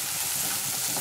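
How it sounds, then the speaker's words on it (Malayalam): Tomato halves being stirred and mixed in a hot pan over high flame for upma, a dense continuous sizzle with stirring, close up and without any voices. "അതിന് ശേഷം നന്നായിട്ടൊന്ന് മിക്സ് ചെയ്ത് കൊടുക്കാം"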